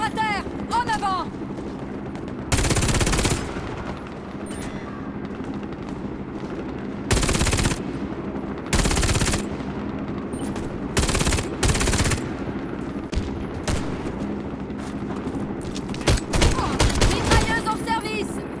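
Machine gun bursts in the video game Warface, several loud rapid-fire volleys of varying length repeating across the scene, with game voice lines and ambient noise between them.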